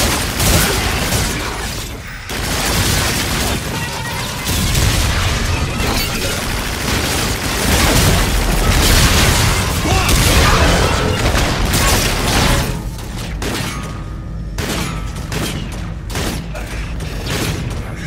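Call of Duty: Infinite Warfare game audio on an asteroid level, dense and loud: rattling gunfire, booms and mechanical clatter running continuously with short breaks.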